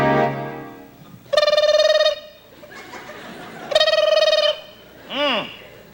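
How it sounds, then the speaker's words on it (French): Telephones ring in a 1996 comedy television sketch, two loud electronic trill bursts in quick succession, followed by a short warbling, sweeping tone, all close and clear. "Les téléphones sonnent!"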